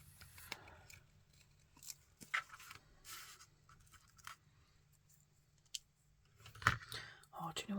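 Scissors trimming paper close up, quiet scattered snips and crisp cuts with faint rustling and a few louder snips near the end, under soft background hum.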